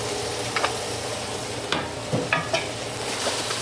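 Vegetables and onions sizzle in a hot pan with a pinch of salt, a steady close frying hiss broken by occasional stirring scrapes and light clinks.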